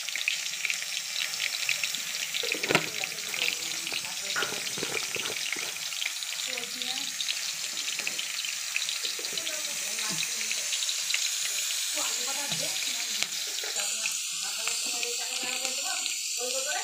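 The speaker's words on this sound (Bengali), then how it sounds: "কাঁচা লঙ্কা দিয়ে দিলাম 3টে, পাঁচফোড়ন দিয়ে দিলাম" Three green chillies and panch phoron sizzling in hot frying oil, a continuous, crackling, spattering hiss that holds steady throughout at close range.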